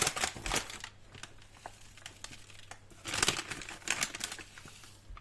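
Crisp plastic crinkling and rustling in bursts, close up, as thick coffee packets are pressed and squeezed into a jar, with a louder flurry partway through.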